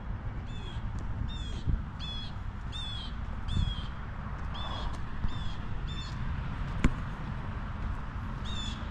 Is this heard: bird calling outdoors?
yes